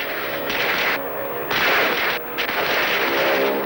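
Cannon fire in a 1959 Tintin cartoon: heavy booming blasts fire in rapid succession, loud and dense, with one brief lull, and no talk over them.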